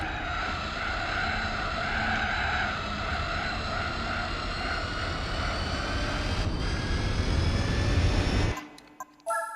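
Race car engines in the Gran Turismo 4 video game, a loud, steady high-pitched engine whine holding for about eight seconds, then cutting off abruptly into brief scattered sounds near the end.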